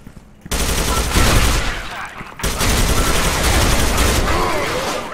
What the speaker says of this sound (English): let's rip with the FAMAS, guys